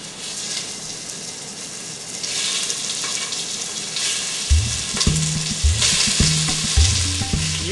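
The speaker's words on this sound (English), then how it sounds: "Okay, now we'll just throw the meat in" Meat sizzling in a pan over low heat while being cooked before vegetables go in for pineapple chilli, a loud steady hiss that swells, then rhythmic low thuds and scraping from stirring join in, no talk.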